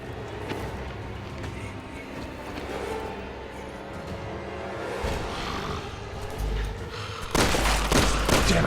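Gunfire in Resident Evil 6 comes as scattered shots under a busy game soundtrack, then a loud dense burst of firing near the end.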